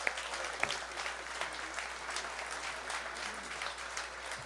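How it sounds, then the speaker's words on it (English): Audience applause for a big band of Western New York musicians at a Christmas party, with steady dense clapping held at an even level throughout, with no talk over it. "Please, a round of applause for all these Western New York musicians."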